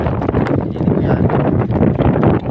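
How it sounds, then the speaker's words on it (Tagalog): Strong wind buffets a microphone outdoors on a farm, a loud, continuous broadband roar with gusty swells throughout and no clear talk. "Malakas kasi ang hangin."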